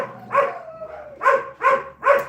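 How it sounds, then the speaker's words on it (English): Indoors at a dog rescue, a dog gives four loud, close barks in an uneven rhythm, with a faint whimper between the first and second. "Why is Lulu barking?"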